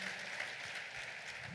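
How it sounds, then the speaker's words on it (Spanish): A church congregation applauds during a Spanish-language resurrection sermon, producing a steady, dense wash of clapping that holds at an even level throughout with no voice over it. "Démosle un fuerte aplauso al Señor."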